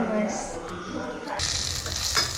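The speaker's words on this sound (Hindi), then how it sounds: "बैगन का भरता छौंकने के लिए ये भुना जा रहा है" Mashed brinjal bharta with charred tomato is fried in hot oil for tempering, starting with a voice briefly speaking over faint cooking noise, then a loud, steady sizzle that swells up close.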